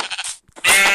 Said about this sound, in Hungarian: Ott egy birka.